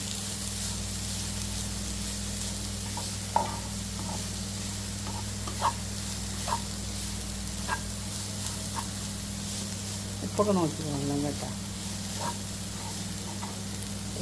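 Raw jackfruit thoran fries in a pan with a steady soft sizzle, punctuated by occasional spoon taps and stirring scrapes, while a voice speaks briefly over it.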